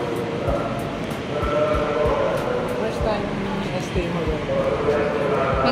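Steady rumble and rhythmic rail thumps of a moving MRT train, with people talking over the ride noise throughout.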